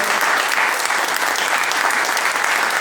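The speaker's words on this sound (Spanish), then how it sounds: "nuevamente los voy a molestar para aplaudirlo a estos dos grandes monstruos" Loud, sustained audience applause fills a seminar on the history of country music in Argentina, dense steady clapping from a crowd throughout with no breaks.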